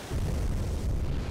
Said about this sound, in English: let's see if we can sink this submarine